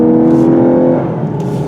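A 2022 Lexus LC500h hybrid in sport mode gives a loud, close exhaust drone with a steady engine tone that eases off partway through, with no talking.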